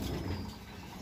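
Racing pigeons coo in a loft before a race, low soft murmuring close by over a steady rumble of background traffic.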